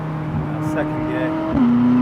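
Inside a McLaren 570S (2016), the engine hums steadily in second gear, then the note jumps and swells louder as the car accelerates.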